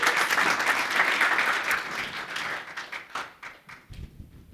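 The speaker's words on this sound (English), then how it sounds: "Please give her a round of applause." Audience applause at an International Women's Day breakfast as a guest returns to the stage, a loud steady clapping that thins into scattered claps near the end, with no talking over it.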